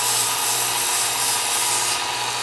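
Work Sharp Ken Onion belt sharpener grinding a knife blade freehand, a steady loud abrasive hiss and whir running unbroken throughout, with no talking.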